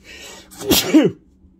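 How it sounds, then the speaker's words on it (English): A single loud, close sneeze: a short breathy intake followed by a sharp explosive burst, then silence. "I'm about to sneeze."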